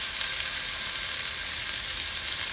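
Beef stew ingredients with minced garlic frying in a pan give a steady, close sizzle, a bright hiss with no voices over it.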